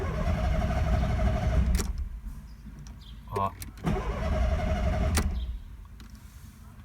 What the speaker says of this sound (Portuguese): E se eu tentar dar partida no carro, ó,